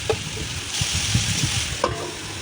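Lentil khichuri ingredients frying in a pot with salt and turmeric, a soft steady sizzle with a few spoon knocks and stirring scrapes, close and fairly quiet, without speech.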